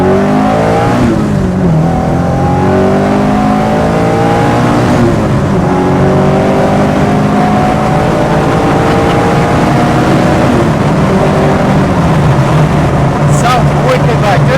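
1973 BMW 2002 tii engine pulling hard under way, a loud continuous drone with pitch climbing and dropping through gear changes, heard from inside the car with people talking over it.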